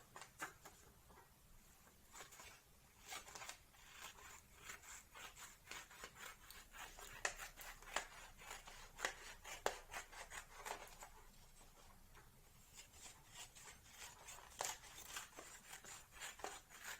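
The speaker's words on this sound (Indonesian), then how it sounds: "Kemudian gunting sesuai garis yang telah dibuat." Scissors snip through colored origami paper along drawn lines, a steady run of short crisp cuts and paper rustles close up, with no talking.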